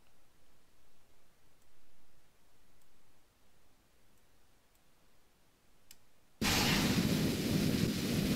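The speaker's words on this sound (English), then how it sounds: "And we have stage separation." Near-silence with faint ticks and clicks gives way to a sudden, loud burst of broadband rushing noise as a rocket stage separates in a video game, and the roar continues steadily.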